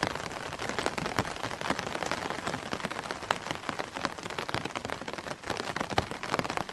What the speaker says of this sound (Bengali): কানে ভেসে আসছে শুধু ছাতায় পড়া ফোঁটা ফোঁটা পানির আওয়াজ।